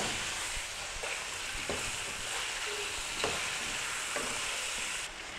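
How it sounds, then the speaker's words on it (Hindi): Chicken sizzling in a pan as spices are stirred in, a continuous frying hiss with periodic scraping strokes of a spoon, close and steady with no talking. "स्पाइसेस को इसमें हमने अच्छी तरह से मिक्स कर लेना है।"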